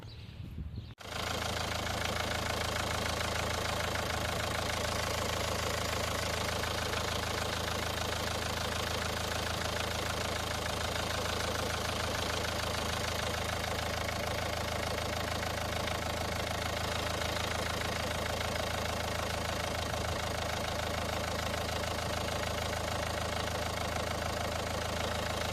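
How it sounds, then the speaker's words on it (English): A car engine runs under a fuel injector leak-off test, with a suspected faulty injector; after a brief quiet start it holds a steady, loud droning roar without clear rises or falls, close and continuous throughout. "we also need to rev it 3 or 4 times up to 4000 RPMs"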